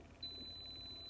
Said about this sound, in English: it's beeping for some reason.